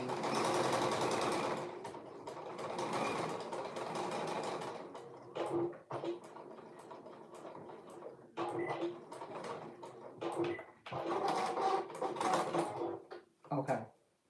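A sewing machine stitches a 3/8-inch seam in a long, loud, whirring run, then in short stop-start bursts, with a person talking in between.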